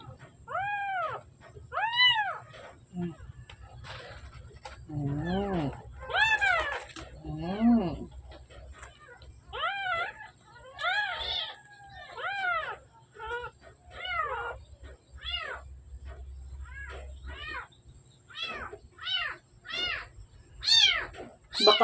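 Week-old kittens, four of them and orphaned, cry in a long series of thin, high, repeated meows that overlap and keep coming close to the microphone, with a soft low hum beneath.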